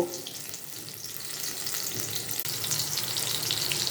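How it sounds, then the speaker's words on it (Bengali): Ridge gourd fritters frying in hot oil as they are turned over, giving a steady, close sizzle with crackling that holds throughout, no voices. "এইভাবে আস্তে আস্তে এপিঠ ওপিঠ দুপিঠ ভালো করে ভেজে নেব।"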